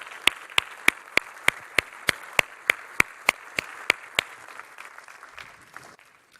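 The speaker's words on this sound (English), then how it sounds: "join me, please, applauding them for all the hard efforts on that." Applause at a waste management conference on marine litter: a few hands clap in a regular, sharp rhythm of about three claps per second, each clap distinct, then thinning out.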